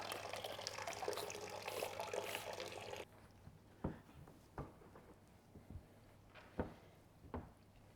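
Water sprays with a loud rushing hiss for a few seconds while rinsing a car, then stops, leaving quiet drips and a few soft knocks and thuds.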